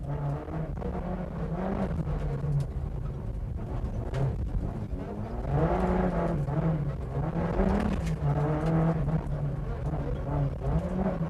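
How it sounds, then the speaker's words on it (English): Onboard a Peugeot rally car on a twisty, bumpy stage of the 1990 Circuit of Ireland Rally, the engine drones steadily and loudly with rising and falling pitch as the driver works through turns and bumps. "Inside the Håkan Eriksson Peugeot, we get an idea of the demanding nature of this fabulous stage with its twists, turns and bumps"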